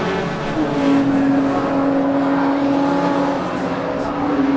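Classic touring cars race at Brands Hatch, a continuous loud engine drone sustained near the track with a steady rising pitch, blended with crowd and circuit ambience and some faint commentary underneath.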